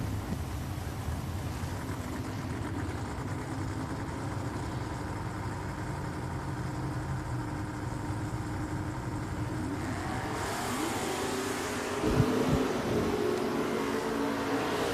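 Chevy Chevelle with a 646 engine and an S10 pickup on a 693 at Richmond Dragway, a steady loud engine drone with broadband rumble that lifts and brightens near the end, followed by a brief sharp burst.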